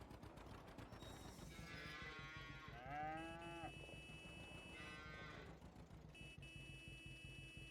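Cows in the dairy farming game Farming Simulator 25 give two drawn-out moos, the first rising and wavering, the second shorter, over a low idling engine hum, with no talking.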